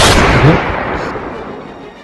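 A loud, close gunshot blast in a Bangla drama, a single sharp report that booms and then decays slowly into a fading rumble.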